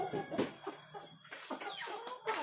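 Chickens cluck softly and intermittently nearby in a cement-floored semi-free-range coop, several short scattered calls in a quiet space.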